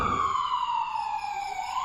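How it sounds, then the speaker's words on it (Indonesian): An ambulance siren wails loud and close, its tone sliding steadily downward in one long sweep, used as a sound effect in a horror podcast with no voices over it. "Sekitar pukul 10 malam terdengar suara sirine."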